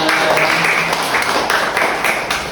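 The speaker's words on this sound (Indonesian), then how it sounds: "Boleh dong tepuk tangannya teman-teman" A podcast audience applauds, with steady crowd clapping that fills the whole clip at close range, fairly loud and continuous, with no talking.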